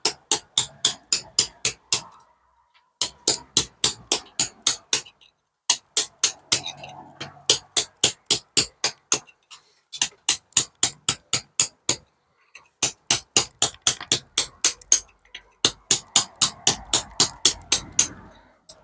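Hammer striking a chisel against old mortar between bricks and stone, fast ringing metallic blows in bursts of about eight to ten, separated by short pauses, loud and close with no talking.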